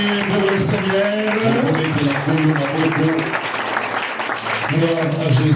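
A church congregation applauds loudly and continuously, with a voice singing or calling out over the clapping.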